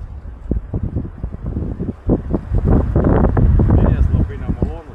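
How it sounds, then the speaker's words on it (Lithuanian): Wind gusting across a small forest lake in Šiauliai district, a steady rushing roar that buffets the microphone and swells louder in the second half, with bursts of speech over it. "Vėjas labai nemalonus."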